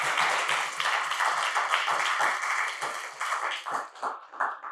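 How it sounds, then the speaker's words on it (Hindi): Church congregation clapping at a worship service, a dense wash of many hands applauding continuously and fairly loud throughout, with a slight uneven rhythm and no talk on top. "ताली बजाएंगे."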